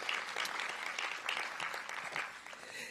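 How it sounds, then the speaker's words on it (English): Audience applause at a Washington DC event launching a city age-friendly strategic plan, a steady patter of clapping from a room full of people, continuous and moderately loud for the whole stretch. "let's give them a big round of applause"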